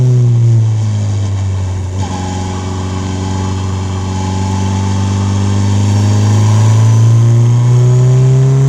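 An F4 race car engine in a racing video game holds a steady, loud drone through a corner, the pitch sagging slightly then climbing again as the throttle opens, with no talk over it.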